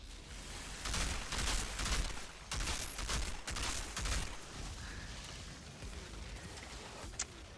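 Bursts of heavy gunfire and explosive impacts from mortar attacks in the shooter game Outriders come in rapid clusters with short pauses between them, loud and chaotic, tailing off into quieter rumbling.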